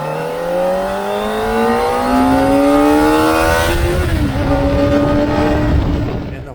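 A high-pitched Kawasaki ZX-4RR sport motorcycle engine revs hard toward its 16,000 RPM redline, climbing steadily in pitch, dips briefly, then holds a loud, buzzing wail close by.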